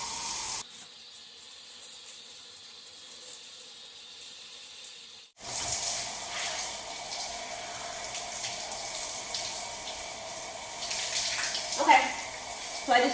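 Running water rinsing conditioner out of hair, a steady hiss of spray that cuts off briefly and then resumes louder and splashier, with faint movement noises near the end.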